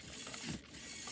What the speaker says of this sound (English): The motor spins around.